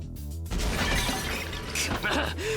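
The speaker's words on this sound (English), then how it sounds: "I smashed a 4th bone creature." A bone creature smashed apart during a Fate/Stay Night video game battle, a loud dense shattering crash that bursts in suddenly after a quiet opening and rattles on with scattered debris for about two seconds.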